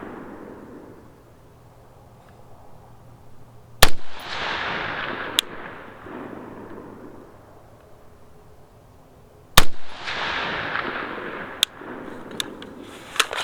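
Two loud, sharp gunshots from an ACR DMR rifle fired at targets on an outdoor range, each followed by a long rolling echo, with a few fainter clicks and clanks of handling between shots and no talking.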